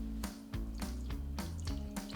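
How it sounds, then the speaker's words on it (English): Milk is poured into a pan in a home kitchen, making soft, rhythmic liquid glugs and splashes about every third of a second, close and quiet. "I have some milk and I'm going to add that into a pan."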